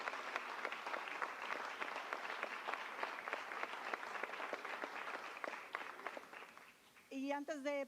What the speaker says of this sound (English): please a great applause to her